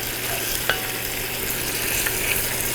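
Pork cheeks brown in a hot pan, giving a dense, even sizzle with a couple of faint clicks, close and steady with no speech.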